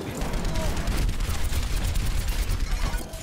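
Sustained rapid firing of Torbjörn's turret in Overwatch, a steady rattling barrage layered with other gameplay noise and a voice speaking over it.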